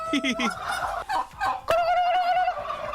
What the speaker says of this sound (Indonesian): Ada yang unik dari suara kalkun pemirsa.